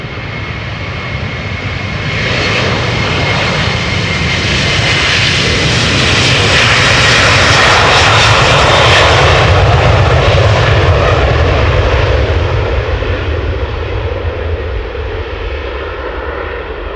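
A Delta Airlines jet roars down runway 36L, the Polderbaan at Schiphol, on departure, its engine thunder swelling from quiet to very loud and close, peaking mid-way, then easing slightly as it climbs away.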